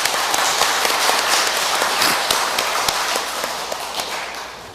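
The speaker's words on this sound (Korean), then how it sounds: "이 꿈이 반드시 성공되기를 여러분 박수 한번 보내주세요" A crowd at a religious award ceremony applauds loudly, a thick continuous roar of clapping with a few sharp louder claps standing out, slowly fading toward the end.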